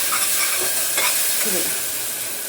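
Onion and tomato, salted and with curry leaves and coriander, sauté in a pan with a close, steady sizzle and occasional stirring scrapes, no voices.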